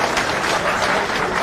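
Applause from an audience at a political party press conference, a dense burst of clapping filling the room at close range without pause.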